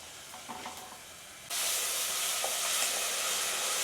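Ground masala paste with garam masala and turmeric powder hitting hot oil in a pan for an egg dish, starting quietly and then bursting into a loud, steady, close sizzle that holds to the end, with no talking.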